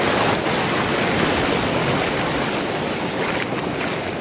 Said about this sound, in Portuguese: olha a cachoeira aí maravilhosa